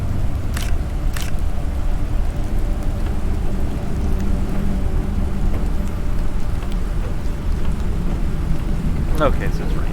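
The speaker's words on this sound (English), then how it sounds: "Okay, so it's raining again." Rain and thunder in the survival game Planet Crafter: a steady dense rain hiss with low rumbling throughout and a couple of sharp cracks early on, continuous and fairly loud.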